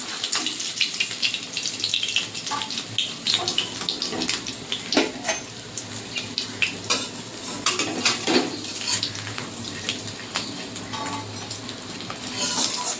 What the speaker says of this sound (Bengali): এরকম করে আমি সব মাছগুলো ভেজে নেব